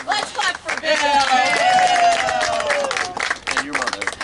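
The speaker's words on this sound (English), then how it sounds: "Let's clap for Bill." Mourners clapping at a graveside, a burst of scattered hand claps mixed with overlapping voices and cheering, close and fairly loud, tapering off near the end.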